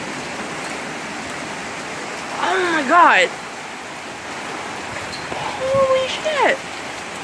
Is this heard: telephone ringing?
no